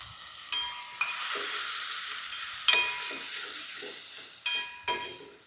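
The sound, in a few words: tomato frying with spices in a pan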